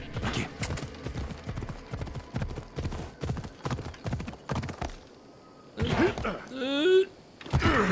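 In Assassin's Creed Odyssey a horse gallops with a fast, steady clip-clop of hooves for several seconds, then goes briefly quiet before a loud whinny and more hoofbeats.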